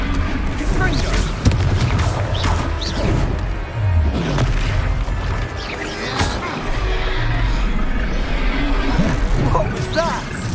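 Confringo blasting spells in Hogwarts Legacy, several booming impacts and crashes scattered through combat, loud and close, with shouted spell incantations and other voices throughout.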